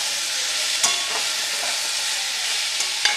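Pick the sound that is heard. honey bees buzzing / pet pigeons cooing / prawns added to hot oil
prawns added to hot oil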